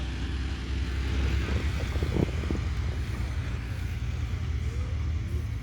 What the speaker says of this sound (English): actual World War I two-seat bombing and reconnaissance and fighting airplane, the Bristol fighter, Bristol F-2B